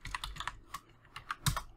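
Rapid, uneven keystrokes on a computer keyboard while Python code is typed, a quick cluster of clicks followed by a few spaced taps and one sharper, louder strike, close and alone without talk.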